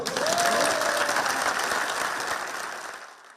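Liberal Democratic Party lawmakers applaud in a Tokyo chamber as the party's newly elected leader bows, a dense round of clapping that swells early, then slowly thins and fades out.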